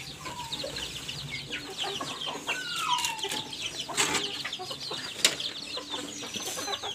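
A mother hen clucks softly among peeping chicks on a small farm, with scattered chirps, a brief flutter of wings and quiet background noise.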